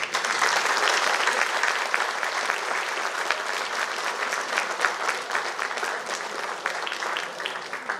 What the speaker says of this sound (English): Ladies and gentlemen, a huge round of applause for this.